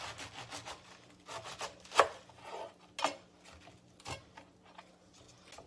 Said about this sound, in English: So I'm going to cut the cabbage.